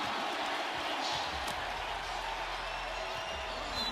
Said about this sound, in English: crowd reacts to the scoreboard. Not happy with the call.